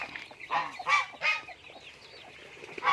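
Farmyard chickens kept alongside ducks and geese give a few short clucks and calls in close succession, fairly near, with a quiet stretch in between.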